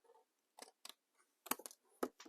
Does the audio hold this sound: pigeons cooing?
no